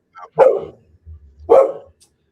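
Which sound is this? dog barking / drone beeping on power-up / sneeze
dog barking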